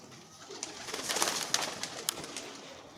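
Pigeons coo softly nearby in low, repeated murmurs, with a few sharp flutters or taps and steady outdoor hiss behind them.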